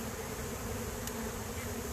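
Honey bees buzz steadily around a hive, a continuous low hum with a faint constant drone throughout, no voices.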